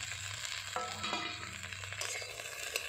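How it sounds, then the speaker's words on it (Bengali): Cauliflower and potato pieces fry in a pan with onion stalks, a close, steady sizzle broken by several scraping stirs, with no one speaking. "ফুলকপি আলু ভাজা ভাজা করা হয়ে গেছে দিয়ে দেব পেঁয়াজ কালি"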